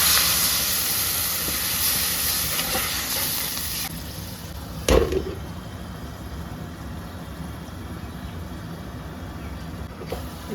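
Water splashed into a hot pan of egg and okra bhujia sets off a loud, steaming hiss that fades after a few seconds, followed by a sharp clank and quieter simmering.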